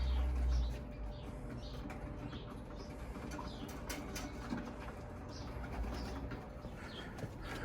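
Racing pigeons landing at a loft after a 200-mile young-bird race from Fresno, California: faint cooing and soft flutters under steady outdoor background noise, with a brief low thump at the start.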